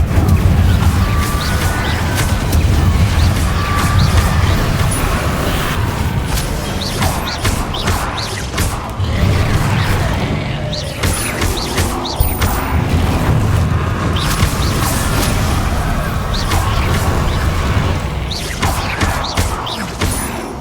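Incendio fire spell from Hogwarts Legacy, a dense roaring burst of flame with crackling, booming impacts sustained for about twenty seconds, loud and continuous with no talk.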